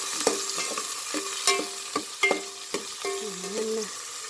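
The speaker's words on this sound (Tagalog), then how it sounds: "ayan, inginisa na natin yung bawang at sibuyas" Garlic, onion and tomato sauté in a pan, a steady sizzle broken by repeated clanks and scrapes of a utensil stirring, with a few tonal metallic rings from the pan.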